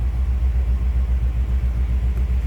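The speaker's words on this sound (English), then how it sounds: "Nice little rumble coming out of it." A 1957 Ford Thunderbird's 312 V8 idles with a deep, even rumble, steady rhythmic low pulses throbbing close and loud with nothing else over it.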